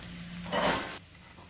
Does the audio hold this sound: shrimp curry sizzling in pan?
yes